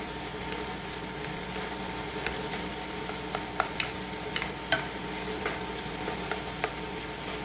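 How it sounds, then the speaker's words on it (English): Shrimp sizzle steadily in a hot pan as they are turned over, a continuous close frying hiss punctuated by light ticks and taps of a utensil against the pan. "All we're going to do is rotate the shrimp so we can make sure all of it can get cooked evenly."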